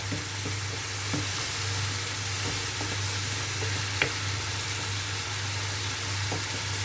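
Food cooks in a pan for a home-style Turkish breakfast, a steady, moderate sizzle with soft stirring taps and one sharper clink midway, no voices.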